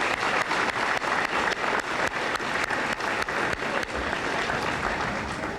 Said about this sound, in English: Seniors, let's give them a nice round of applause,